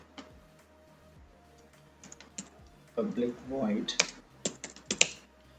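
Java code being typed on a computer keyboard, close clicking keystrokes in loose bursts that grow busier toward the end, with a voice talking partway through.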